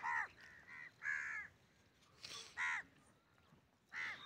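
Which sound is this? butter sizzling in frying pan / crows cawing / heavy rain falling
crows cawing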